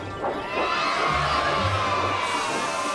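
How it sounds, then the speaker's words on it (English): A crowd of children cheers and shouts together in a Thomas & Friends remake, a loud continuous burst of excited voices that swells after the first half second and holds steady. "It's Edward, the children cheered."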